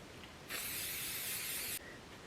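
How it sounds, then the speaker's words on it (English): Hairspray spritzed onto clean hair in one steady, close hiss of just over a second, starting and stopping abruptly. "Clean hair, hairspray."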